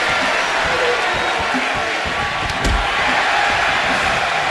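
A crowd at a live pro-wrestling tag team event in Minneapolis roars in a continuous, dense wash of cheering and noise, with a sharp slam or thud standing out partway through.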